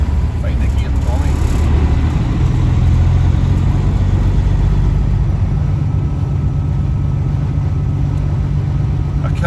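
A Caterpillar diesel engine in a loaded truck at the docks runs with a steady, loud low-pitched drone and an even throb that holds for the whole stretch.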